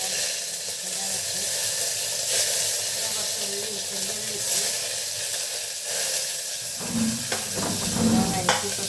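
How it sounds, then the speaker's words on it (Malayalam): Garlic and curry leaves dropped into hot oil with mustard seeds give a steady frying sizzle and hiss throughout, with stirring scrapes and a brief burst of louder sputtering near the end. "കുറച്ച് വെള്ളുള്ളി കരിവേപ്പില ഇടാം."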